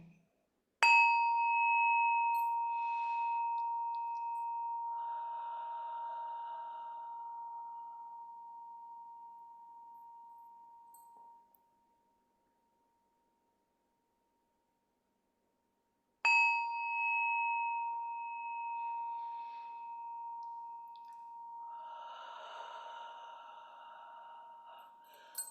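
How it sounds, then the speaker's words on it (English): A meditation chime rings out twice, each a clear bright tone that decays slowly over several seconds, separated by a silent pause, quiet and alone with no talk. "Listen for the chime."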